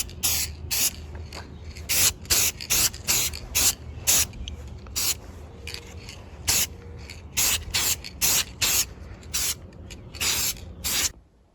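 Clear coat sprayed lightly from a used aerosol can onto a Spider-Man 2099 helmet: a long run of short, sharp hissing bursts in an irregular rhythm, close and distinct over quiet background.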